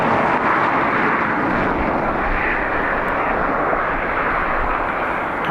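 Airbus passenger jet at Dublin Airport, a loud steady broadband engine roar held close and continuous without letup.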